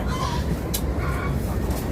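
A chicken clucks a few times over a steady low rumble of background noise, with a brief sharp noise in the middle.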